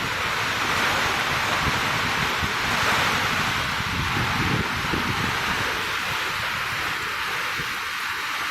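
Heavy downpour drumming on a tin roof with gusting wind, a loud, dense, continuous roar of rain impacts throughout, steady and close, with no voices.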